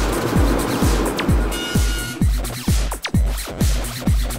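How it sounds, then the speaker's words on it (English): A car drives along a three-lane desert road, its loud engine rising in repeated surges as the gears shift, about eight times in a row, close and with no voices. "it looks like I'm driving into the desert"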